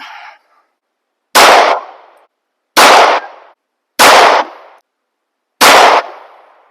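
A rifle fitted with an ADE Optics Trumpet red dot sight is test-fired four times outdoors, each loud sharp blast followed by a short decaying echo, spaced unevenly about a second or more apart.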